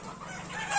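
Native country chickens on a farm give a brief, faint cluck that rises slightly at the end, with a low hum of the surroundings behind it.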